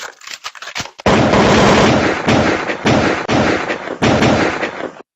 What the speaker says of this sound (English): Can y'all hear the gunshots?